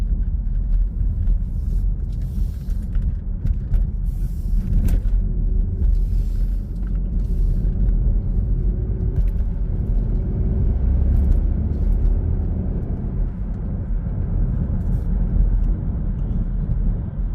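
A car cruises along a road behind a slower vehicle at just over 40, producing a continuous low engine and tyre rumble from inside the cabin with small shifts in tone and no speech.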